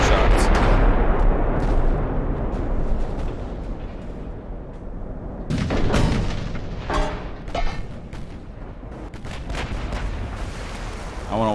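Heavy battleship guns firing in a naval battle in Ultimate Admiral: Dreadnoughts, with deep booming salvos and sharp blasts over a constant low rumble, several loud bursts spread through the stretch.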